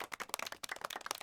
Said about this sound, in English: You give chat a round of applause for hanging out